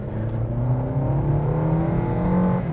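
Engine of a Toyota Veloz or Suzuki XL7 compact MPV pulling steadily from about 20 km/h, a continuous close drone whose pitch climbs smoothly under acceleration for nearly three seconds, with no talking.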